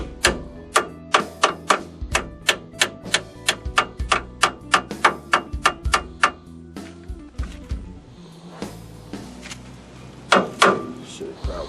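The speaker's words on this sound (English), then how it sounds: "now just gotta tap on this weird spacer guy" Sharp metal-on-metal taps as a spacer is driven onto a ball joint on a 1992 Ford F-150, about twenty fairly even strikes in quick succession, a pause, then a few more taps, all close and distinct.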